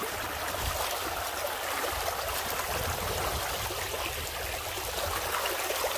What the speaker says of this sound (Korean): 이렇게 청량한 물소리도 듣고